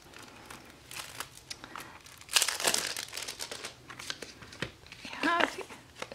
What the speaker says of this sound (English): I'm gonna rip off the plastic.